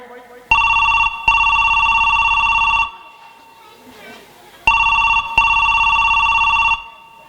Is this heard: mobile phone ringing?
yes